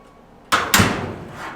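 Two sharp thumps in close succession as a traditional hot rod's chopped-body car door is shut, loud and near, with a brief ringing tail and no talk.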